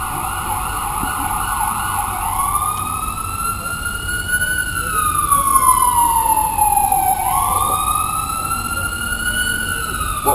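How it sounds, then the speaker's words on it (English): Ambulance siren passing along a Boston street, a loud close wail sweeping up and down and dipping in pitch as it goes by, over steady road traffic noise. "I'm going to wait 1 minute for this ambulance to go by."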